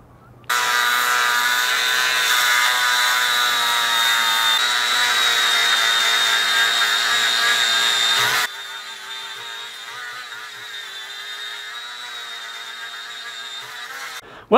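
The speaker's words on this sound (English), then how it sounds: "we're gonna take a little bit of break from sanding" Power sander working over a large wooden area outdoors at an off-grid property, a steady loud whirring drone that drops to a quieter running hum partway through before cutting off.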